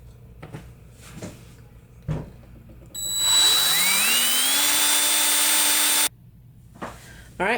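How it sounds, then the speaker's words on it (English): A power drill spins up and bores into marked holes in wood for a DIY plant stand, a rising whine held for about three seconds, close and loud, framed by a few knocks and handling sounds. "now I'm going to drill these out"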